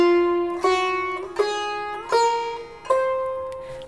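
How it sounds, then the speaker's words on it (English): Sitar playing a musical scale, four plucked notes rising in pitch with bright buzzing, shimmering overtones and slight pitch slides, each ringing out in a close, clean recording. "Sitar, it sounds like this."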